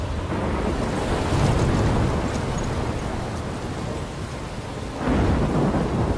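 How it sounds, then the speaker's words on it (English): A thunderstorm in the video game Life Is Strange, with a loud, continuous roar of heavy rain and wind under deep rumbling thunder that swells near the start and again near the end, with no voices. "I'm trapped in a storm?"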